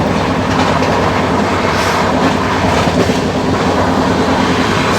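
The Khasnagar superfast express train passes close by on an Indian railway line, a loud, steady roar of wheels and carriages with rhythmic clickety-clack throughout.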